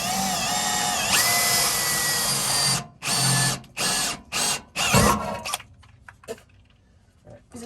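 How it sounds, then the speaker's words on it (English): A power drill bores a hole in a Toyota Tundra during installation of a 46-gallon auxiliary gas tank, whining loudly and continuously, then cutting out in a series of short bursts before fading to quiet handling noises. "and now we're gonna drill."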